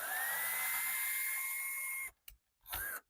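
Power drill driving rusty screws: a high whining motor runs steadily for about two seconds, then stops, with a brief blip and a short second burst after, close and fairly quiet.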